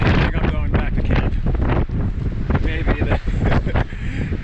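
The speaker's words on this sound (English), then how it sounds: "Maybe the wind will die down in the morning." Strong gusting wind buffets the microphone at a cold, sandy lakeside campsite near Virginia Lake on the Duck Pass trail at Mammoth Lakes, roaring loud and continuous with rough bursts throughout.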